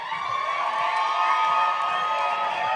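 A large crowd at a CrossFit Huntsville competition cheering and shouting in a steady, loud roar that holds without a break for about three seconds.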